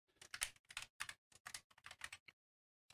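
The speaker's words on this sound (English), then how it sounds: "I'm going to type in..." Typing on a computer keyboard to enter a player name for the game Star Citizen: a close, quick run of crisp individual keystrokes, then a pause before one last key press.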